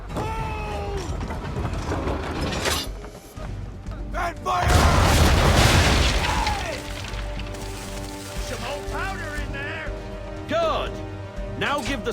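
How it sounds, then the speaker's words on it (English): Ship cannons fire on an enemy vessel during an Assassin's Creed III naval battle, building into a heavy, rumbling broadside boom midway, surrounded by voices, creaking and background score. "Now, aim all guns at her bow and do as much damage as possible."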